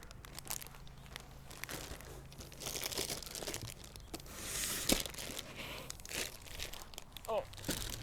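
Packaging on an unboxed 2022 BackFire Zealot S electric longboard crinkles and tears in quiet, irregular bursts of rustling and crunching, close up, with a few faint thumps between them.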